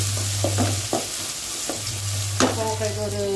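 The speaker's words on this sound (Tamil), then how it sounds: "இது வெங்காயம் வதங்க காய் போட்டுருவேன்." Onion and ivy gourd fry and get stirred in a pan, a steady sizzle broken by a few sharp scraping stirs near the mic, with a low hum underneath and no talk.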